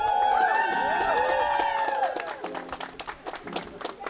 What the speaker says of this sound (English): Keep on clapping for Mr.